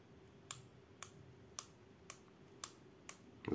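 A Xiaomi Lampo metal ballpoint pen clicks six times at a steady, roughly half-second rhythm, each sharp crisp tick close and distinct over a quiet hum.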